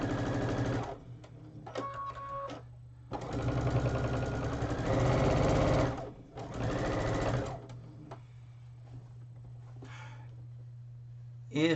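Sewing machine stitching quilt pieces together in several bursts of rapid rhythmic whirring separated by short pauses, close and clear over a low steady hum.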